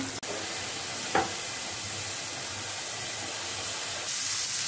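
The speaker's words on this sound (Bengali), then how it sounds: "মাছটা মোটামুটি ভাজি হয়ে গেছে, উঠিয়ে ফেলবো।" Fish frying in a pan, a steady broad hiss of hot oil running throughout, with a sharp click near the start and a brief crackle soon after, and the sizzle swelling slightly at the end.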